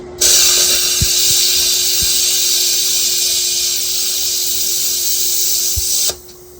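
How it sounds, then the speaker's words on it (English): An angle grinder cuts into a weld on a 3rd-gen Toyota Tacoma truck frame during a cab mount relocation, giving a loud, steady, unbroken hiss-whine for about six seconds that stops abruptly, with a few faint knocks underneath. "So I just took the grinder"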